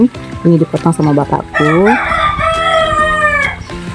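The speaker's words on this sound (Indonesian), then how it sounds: "ini suara ayamnya kukuruyu" A large rooster crows nearby, a loud drawn-out cock-a-doodle-doo with rising harmonics, preceded by a few choppy clucks and heard over a voice in a rural garden setting.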